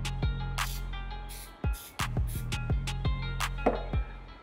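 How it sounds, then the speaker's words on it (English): A cleaner is sprayed from a trigger bottle onto a soft microfiber pad, giving several short, crisp spray bursts spaced unevenly over a few seconds, close by and with no talking. "I'm going to spray it onto the pad."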